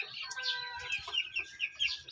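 Farm chickens, young stags and pullets, cluck and chatter steadily at moderate distance, with soft overlapping calls and a few sharper squawks, free of talk.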